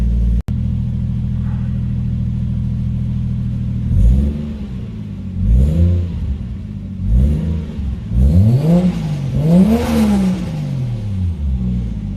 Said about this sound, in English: I'm just letting the car warm up.